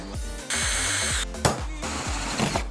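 Power drill boring a 1/4-inch hole through a steering linkage and metal frame on a homemade rolling refrigerator build, a loud, steady whine that cuts off briefly mid-way and then resumes at close range.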